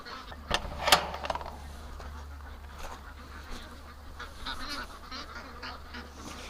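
Ducks being herded into their pen outdoors on a cool day, with a couple of sharp quacks near the start, then softer scattered calls over a steady low outdoor hum.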